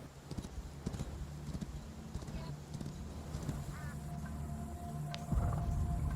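Rapid clip-clop of a horse galloping in a video game cutscene, a rhythmic hoofbeat run under music and game sounds, with a heavier low thump near the end.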